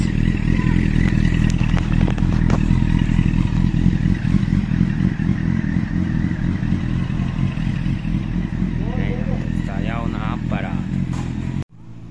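A Honda PCX 125 scooter runs with a steady, close engine drone and light mechanical clatter throughout, talk over it, before cutting off abruptly near the end.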